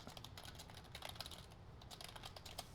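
Rapid, irregular clicking of keys on a computer keyboard during a game-development tutorial, a steady close patter of keystrokes with no talking.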